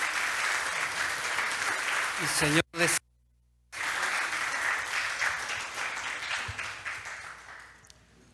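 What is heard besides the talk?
church congregation applauding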